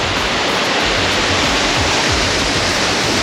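Waterfall in the Faroe Islands roaring as a steady, loud broadband wash of falling water, close and continuous with no voices over it.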